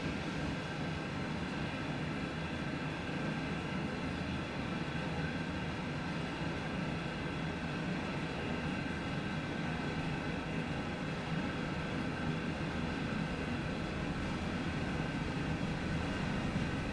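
A long, heavy freight train in the Train Sim World 2 game on the Sand Patch Grade rumbles steadily and continuously, a dense low roar with a faint high whine over it, with no talking.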